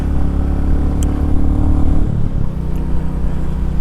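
Motorcycle with under 900 miles on it, ridden at a steady, restrained speed, picked up by a DJI Action 3 camera: a loud, continuous engine drone with wind rush that dips briefly as the revs shift midway, then settles again.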